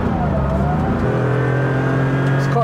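A 1980 Porsche 911 SC Weissach engine while driving, a steady close engine drone with shifting tonal whine and a slight change in pitch midway, heard continuously from inside or near the moving car.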